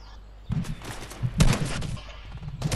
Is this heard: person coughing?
no